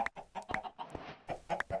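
Chickens cluck in the Minecraft 1.13.1 video game as a quick run of short, close, chirpy clucks in an uneven rhythm, with no talking.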